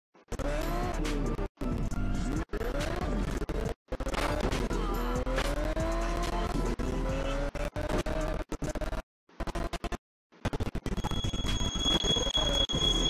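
A supercar in the video game Gangstar New Orleans, with a revving engine whine rising and falling, repeated tire squeals and skids, and brief dropouts and a high electronic tone near the end.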